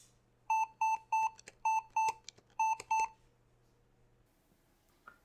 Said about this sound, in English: it has this nice feature you can use to make it beep